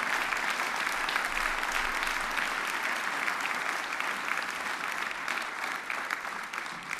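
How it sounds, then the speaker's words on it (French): An audience at a staged show gives sustained applause for three performers, dense, even clapping from many hands that holds steady and tapers only slightly toward the end. "Camille, Perrine et Maë, on les applaudit bien fort."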